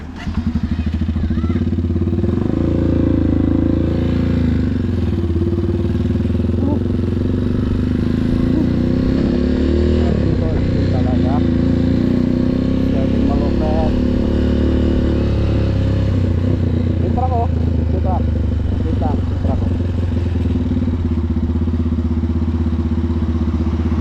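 A motorcycle engine runs steadily throughout at close range, a continuous low rumble with occasional clatter and thuds on a roadside in the Philippines.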